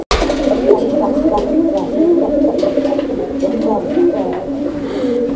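A pair of colored Rajgolla pigeons coo steadily and close by, with a continuous warbling, gargling drone that carries through the whole stretch.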